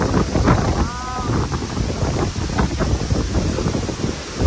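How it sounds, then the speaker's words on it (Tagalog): Strong wind at Hisetsu Falls roars steadily into the microphone throughout, a dense, loud buffeting rush with no clear breaks. "Ang lakas ng hangin oh."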